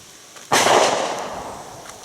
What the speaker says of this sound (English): It's the Ruger Blackhawk. It is a single action 357 revolver